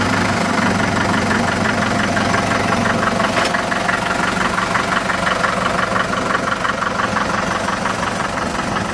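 A Farmall Super MTA diesel tractor engine idles close by, a loud steady chugging rumble with even knocking pulses throughout and no voices.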